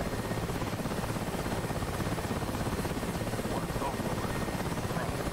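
Helicopter rotor and engine drone from the DCS World combat flight simulator, a steady, dense broadband whir that holds unbroken throughout, with voices talking faintly over it.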